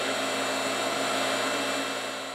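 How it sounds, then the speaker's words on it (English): A water-based aquamation machine runs steadily at a funeral home in Oxford, Alabama, giving off a soft, even mechanical hum with a faint whir, unbroken throughout and with no voices. "this is pretty quiet. It just sounds like a washing machine. It's just very soft."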